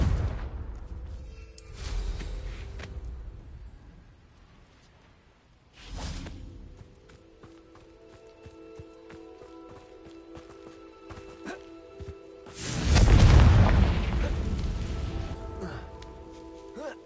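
A Confringo fire spell bursts in Hogwarts Legacy with a loud, deep whoosh and boom, followed by rumbling decay amid quieter game effects and earlier brief impacts.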